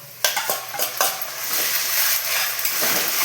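A few quick pan clinks come first, then onion paste drops into fried onions in a pan for chickpea ghugni and sets off a loud, sustained sizzle that fills the rest of the moment.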